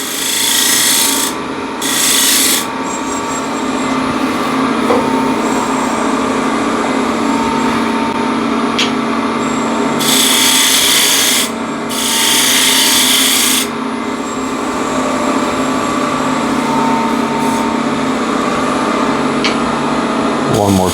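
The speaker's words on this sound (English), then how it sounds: "so that's shear scrape, getting this area nice and clean" A scraping tool shear-scrapes a spinning wooden container on a woodturning lathe, giving a loud continuous rasping hiss over the motor's drone, with a few brighter bursts of harder scraping partway through.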